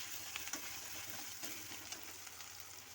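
Garlic paste sizzles and fries steadily among browned onions in a hot pan, a soft continuous crackle with no voices.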